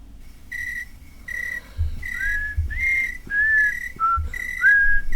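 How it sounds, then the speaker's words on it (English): A person whistles clear, bright notes in short phrases that rise and slide. The tune repeats several times at close range, with faint low thumps between the notes. "I have to whistle again?"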